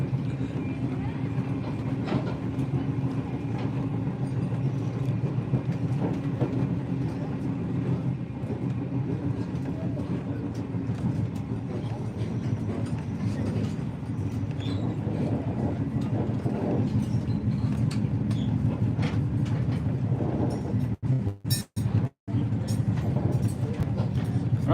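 The Overland passenger train runs on rails through the final curve towards Mount Barker Junction at a crossing, a steady rolling rumble with faint clicking of the wheels and a few sharp knocks near the end.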